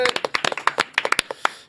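Brief scattered applause at a talk event as reporter Bong Ji-wook is welcomed, a small group clapping close by in an uneven burst that quickly trails off.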